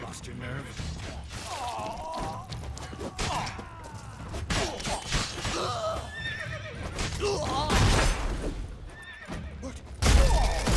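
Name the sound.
horses neighing in a video game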